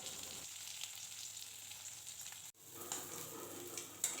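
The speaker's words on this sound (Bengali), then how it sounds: "আর বাকি যে মাছগুলো আছে সেগুলো কিন্তু ভাজা করে নেব" Chapila fish frying in hot oil: a steady, close, busy sizzle that breaks off sharply for a moment midway, then resumes with scattered pops and crackles.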